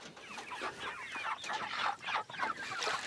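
Backyard chickens cluck and chatter in short, overlapping bursts, fairly close and lively throughout, with no talk over them.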